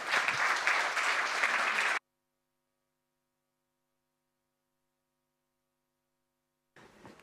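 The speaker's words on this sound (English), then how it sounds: "give her a big round of applause, Laura de Rijcke" Audience applause for a speaker at a robotics get-together: a broad burst of crowd clapping for about two seconds, then near silence with faint mains hum, and the clapping briefly returns at the very end.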